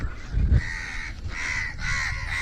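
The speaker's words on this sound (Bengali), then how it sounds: "পুরো জায়গাটায় কাক উঠছে" Crows caw repeatedly across a grassy riverside township setting near Haldia, their harsh calls steady and moderately close, with a low rumble of wind or water underneath.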